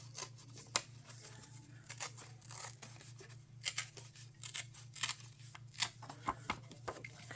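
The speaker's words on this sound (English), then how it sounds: "I could just fold that and tear, maybe." Junk mail envelope paper is folded and torn in short, close rustling bursts over a steady low hum, quiet and uneven with brief crisp rips.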